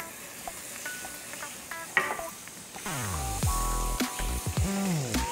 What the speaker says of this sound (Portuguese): derreter a manteiga rapidamente